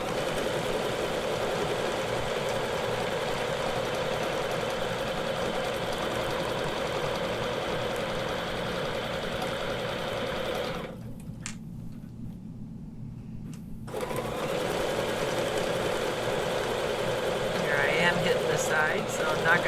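A quilting sewing machine working with Westalee rulework stitches over a center thread in a steady mechanical hum, then stops briefly before resuming, with a person speaking during parts of it.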